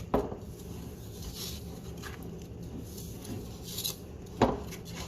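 Snickerdoodle cookie dough stirred in a bowl after salt is added: soft scraping and rubbing with a few clinks of utensil against the bowl, fairly quiet and close, with no talking.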